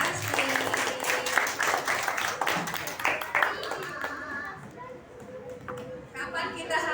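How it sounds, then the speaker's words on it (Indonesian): A group of schoolchildren at an elementary school hygiene session claps in a brisk burst, with voices and chatter mixing in as the clapping thins out. "tepuk tangan buat kalian semua"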